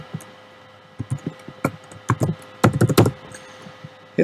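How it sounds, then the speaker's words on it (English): Computer keys clatter close by as a user ID and password are typed, in short uneven bursts of clicks with brief pauses, loud and alone. "Type in your NDCA user ID and password."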